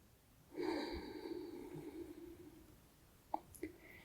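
A long, drawn-out exhale during a gentle backbend yoga practice, soft and close, followed by a couple of faint clicks and short breaths near the end.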